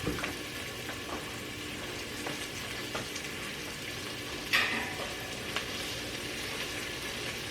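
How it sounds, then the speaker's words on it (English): Onions sautéing in a pan for meal prep give a steady soft frying sizzle, with a few faint stirring scrapes and one brief sharper clatter midway, no talking. "with me just sauteing them"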